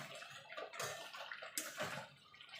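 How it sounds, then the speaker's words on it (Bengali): Water is poured from a rinsed bowl into a cooking pan of Gondhoraj lemon chicken, a close, splashing pour in a few surges, heard alone without talking. "এবার বাটিটা ধুয়ে দিয়ে দেবো জল।"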